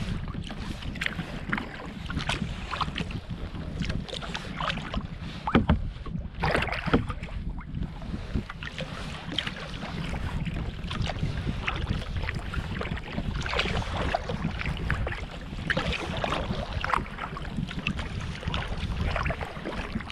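Kayak paddling on Rock Lake: steady broadband water wash and wind-buffeted rustle fill the clip, with repeated soft splashes and knocks of paddle strokes close to the microphone, no talking.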